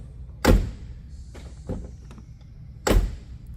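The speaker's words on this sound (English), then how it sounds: "And then when you shut the door," The door of a 2015 Ford F-150 Platinum pickup is shut, making two or three solid, close, low thuds with quiet gaps between them.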